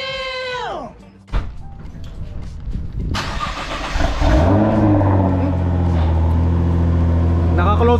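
Car with an Armatrix exhaust, valve closed, starting up with a sharp bark and then revving and settling into a loud, steady idle close by, after a brief high whining tone and with a voice speaking.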